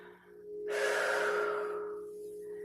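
One long, breathy exhale during a kundalini breathing exercise, rising quickly and then fading over about a second and a half, close and soft against a faint steady hum, with no speech.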